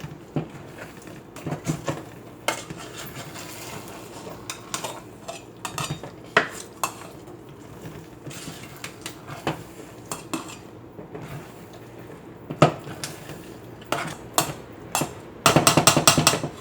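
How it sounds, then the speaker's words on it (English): A spoon stirring homemade mac and cheese in a pot gives off repeated metallic clinks and scrapes at an uneven pace, fairly quiet and close, with a sharper flurry of clatter near the end. "1 teaspoon of salt. And we stir."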